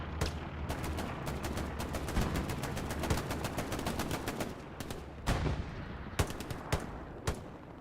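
Sustained machine gun fire in Hell Let Loose at Utah Beach chapel, rapid repeated bursts rattling for several seconds, loud and close, then a few spaced single shots at the end.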